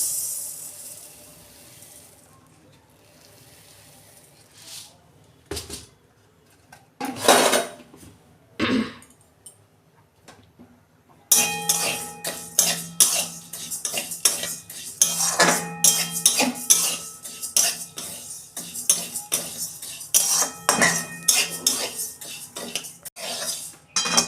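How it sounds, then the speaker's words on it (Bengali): Mung dal dry roasting in a pan for vegetarian dalia, a quiet stretch with a few metal clinks, then busy, steady scraping and rattling of the spatula against the pan for the second half, close and fairly loud. "কড়াটা বসিয়ে দিয়েছি এই মুগের ডালটা আমি ভেজে নেবো"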